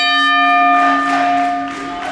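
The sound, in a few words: pro wrestling ring bell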